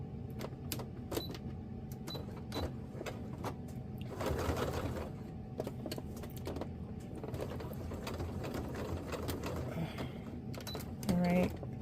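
Sewing machine stitching a 3/8-inch seam on fabric for a lounge wear top, heard as soft intermittent clicking and brief whirring runs under quiet room noise, with a short louder machine hum near the end.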